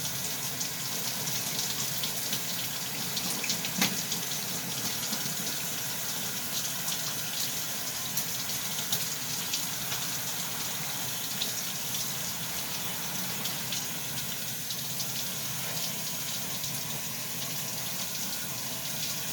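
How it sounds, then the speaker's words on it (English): A bathroom tap runs steadily into a sink during face washing, a constant close-up rush of flowing water with no breaks and no talk. "I'm gonna wash my face"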